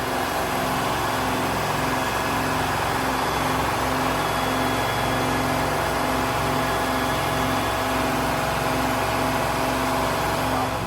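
A steady, loud engine runs without a break in the engine room of a vintage American-built Hatteras yacht at sea, with a dense mechanical hum and a fast, regular pulsing.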